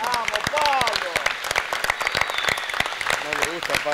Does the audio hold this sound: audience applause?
yes